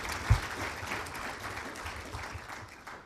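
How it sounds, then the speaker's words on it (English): Warm applause from the audience at a medical symposium on arterial protection and hypertension, an even patter of many hands clapping continuously at moderate volume, with no voices over it. "we show them a warm round of applause for their support to the Society"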